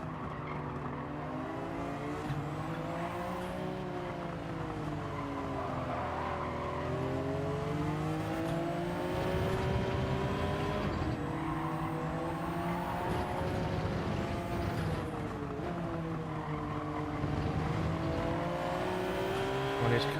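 Race cars including a Toyota Supra in Gran Turismo 7, a steady loud engine drone with rising and falling revs through gear changes and corners, cars running close together, sustained throughout with no talk.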